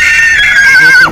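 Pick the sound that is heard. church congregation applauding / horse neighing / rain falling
horse neighing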